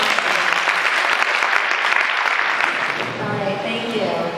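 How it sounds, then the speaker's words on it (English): Loud, sustained applause from an audience at a startup pitch day fills the whole stretch, steady clapping and some cheering that tapers slightly toward the end. "Let's give a round of applause."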